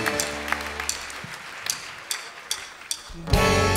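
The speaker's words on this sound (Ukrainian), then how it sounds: "ще більше аплодисментів для Господа" A church congregation applauds during a twentieth-anniversary worship service, with scattered claps over sustained music that swells louder near the end.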